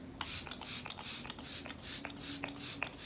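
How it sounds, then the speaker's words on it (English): Rhythmic bursts of fine misting from an e.l.f. setting spray, about seven quick pumps in a row, close and soft. "I use my e.l.f. setting spray"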